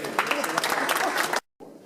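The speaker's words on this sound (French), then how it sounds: "il mérite une bonne main d'applaudissement" Audience applause at a Messmer hypnosis stage show, a dense steady patter of many hands for over a second before cutting off abruptly, followed by faint room noise.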